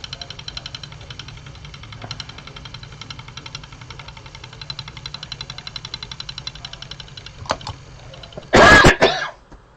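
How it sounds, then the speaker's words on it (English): A single harsh cough bursts out near the end, loud and close, over a faint rhythmic mechanical chugging with soft ticking clicks beforehand. "Oh, that was a bad cough."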